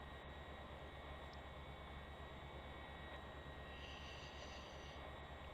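A gas turbine fed with jet fuel runs in a modded Minecraft game, giving a steady, unbroken mechanical drone with a low pulsing hum that holds at an even level throughout, with no voices.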